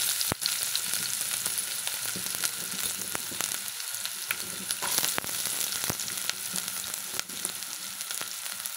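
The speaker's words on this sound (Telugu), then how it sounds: "2 స్పూన్స్ ఆయిల్ వేసుకుని దాంట్లో ఆనియన్స్ వేసేస్తున్నాం" Onions fry in two spoons of oil for a mutton masala curry, giving a loud, continuous close sizzle with occasional crackles and stirring clicks, and no talking.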